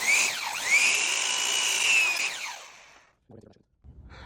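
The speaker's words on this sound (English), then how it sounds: "So we're gonna cut right side first." A power miter saw cuts a miter on wooden window casing, the motor whining up, holding a loud steady howl through the slow cut, then winding down, followed by faint handling clatter.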